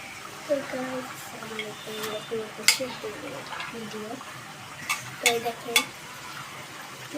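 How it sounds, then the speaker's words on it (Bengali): Chana dal added to a pan and stirred, giving soft scraping and light sizzling with occasional clinks of a utensil against the pan, while a person talks throughout. "ছোলার ডাল আগে দিয়ে দিই।"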